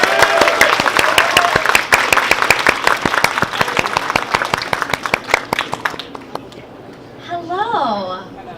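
An audience at an anime convention Q&A claims a long burst of loud, dense applause, which fades after about six seconds. A voice then speaks briefly over the quieter room.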